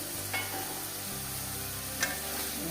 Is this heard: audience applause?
no